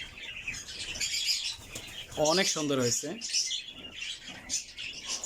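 Doves kept in a ghughu bird farm setup call and chirp with soft cooing notes, one louder burst partway through, heard beneath a person speaking.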